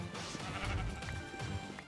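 Sheep bleating in a Minecraft Bedwars match, a few short game-sound bleats mixed with other busy game noise and a low rumble, fairly steady and moderately loud throughout.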